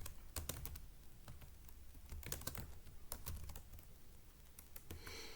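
Keys on a computer keyboard tapped in short bursts, quiet, close clicks in quick irregular clusters with brief pauses between.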